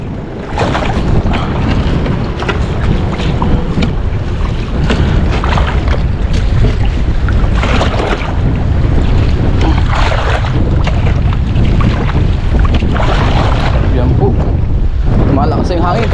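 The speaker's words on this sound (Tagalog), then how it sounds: "Lakas ng hangin." Strong wind roars across the microphone on a small boat at sea, with rushing water and buffeting gusts loud and continuous for the whole stretch.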